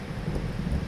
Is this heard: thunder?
yes